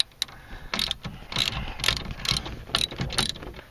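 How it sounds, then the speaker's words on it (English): A ratchet turns a Torx bit to loosen a tightly torqued fastener on a convertible top, making several close, crisp clicking bursts in a steady back-and-forth rhythm. "So now I've just removed the Torx bit after a few ratchets"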